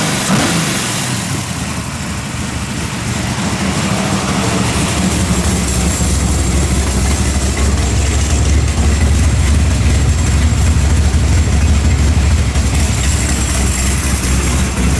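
Chevy S10 car engine cranking and catching, then running with a steady, loud mid-pitched rumble that keeps going without a break.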